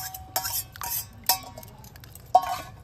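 A spoon stirring turmeric powder into water in a pot, a few sharp metallic clinks and scrapes spaced apart with quiet gaps between, close and moderately soft, with no talk.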